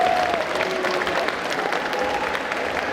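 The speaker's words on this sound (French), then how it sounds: "vous pouvez applaudir très fort le jury" An audience at a cosplay contest applauds the jury, a dense, sustained wave of clapping from a crowd in a hall.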